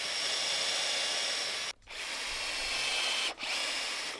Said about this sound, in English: I'm going to pre-drill the holes in these studs